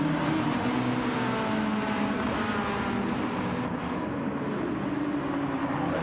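Classic DTM touring cars, Mercedes, BMW, Mazda RX-7 and Cosworth among them, racing at Grand Valley in a sim racing game, producing a continuous dense engine drone with shifting pitch as cars run close together, no talk.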